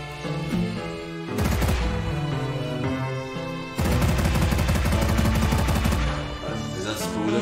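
Rapid gunfire from a weapon in the video game Dreams, bursts of shots crackling over a layer of game music, loud and continuous with a brief lull in the middle.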